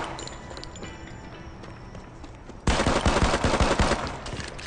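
Gunfire in the mobile shooter Modern Combat 5 starts abruptly partway through, with dense rapid bursts that are loud and close, following a quieter stretch of game ambience.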